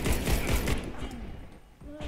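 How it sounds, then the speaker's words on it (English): Bursts of gunfire from the Warface video game, with a CZ 75 Czechmate pistol in use, crackle loudly through the first second and fade into a quieter stretch, with a few faint pops near the end. "two guys are shooting me at the same time the whole time"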